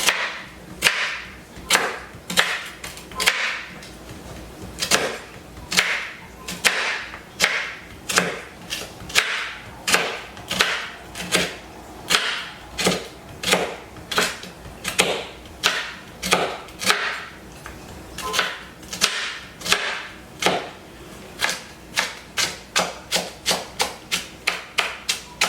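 A knife chops full-size Butterfinger candy bars on a board, a long run of sharp, evenly spaced whacks close by that quicken into a faster rhythm toward the end.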